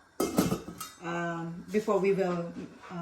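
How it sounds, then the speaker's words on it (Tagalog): A metal lid clinks and clatters as it is set back onto a congee pot, a few sharp rattles at the start, followed by someone talking. "So put the lid on back and then wait till to reach the boiling point again"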